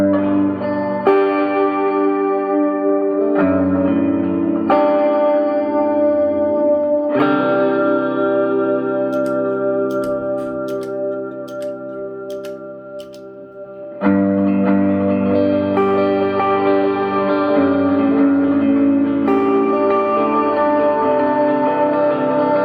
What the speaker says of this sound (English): All together, if we throw a wet sound on here,